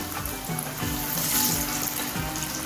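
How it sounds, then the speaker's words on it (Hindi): Battered fish fries in hot oil for a restaurant-style Lahori fish fry, giving a steady, dense, close sizzle and crackle that holds throughout with no talking. "फ़िश को हम 10 मिनट के लिए फ्राई करेंगे"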